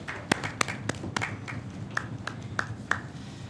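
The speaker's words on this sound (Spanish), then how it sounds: "Yo pediré un aplauso para los intérpretes" Scattered, uneven hand claps ring out in a Congress chamber during a deafblindness awareness day, a handful of sharp separate slaps rather than full applause, moderately close over a low room murmur.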